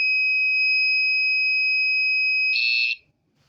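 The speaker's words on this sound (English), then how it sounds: "when you go to turn this device on at the most sensitive, it's going to alarm right away" A loud, piercing electronic alarm tone from a detector device set to its most sensitive level sounds steadily, then briefly pulses before cutting off abruptly into near silence.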